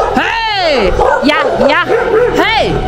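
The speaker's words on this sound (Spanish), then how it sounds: "Eso es la alarma para que todos los perros ya saben que estamos pasando." Several dogs bark and yelp close by in a village in Tamazulápam del Progreso, Oaxaca, Mexico, with rising and falling cries overlapping as a person shouts over them.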